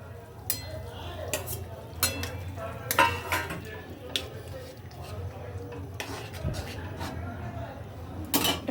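Paneer cubes dropped into gravy and stirred in a pan, with repeated clinks and scrapes of a spoon against metal at an uneven pace over a low background hum and faint sizzle.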